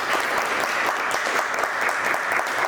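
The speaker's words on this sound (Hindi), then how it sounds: "जोरदार ताली मामा के लिए।" Audience applause for a veteran actor called Mukesh Mama at a staging of the Hindi play Barf, a steady, dense burst of clapping from the crowd at constant loudness.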